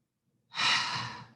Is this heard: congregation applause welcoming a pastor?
no